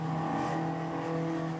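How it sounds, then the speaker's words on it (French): Historic racing car engines roar at the Albi circuit, a sustained, loud, steady drone with strong harmonic tones, close by and without talk. "c'est le vrombissement des moteurs historiques qui a la part belle"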